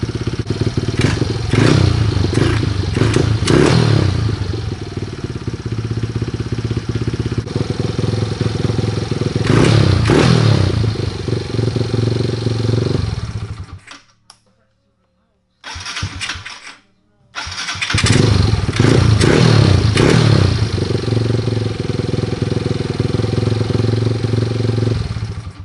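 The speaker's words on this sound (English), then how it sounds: "it's idling on its own at a normal idle" A pit bike fitted with an aftermarket exhaust idles loudly and revs in uneven bursts, stalls into a moment of silence, then fires up again and resumes its close, throaty idle.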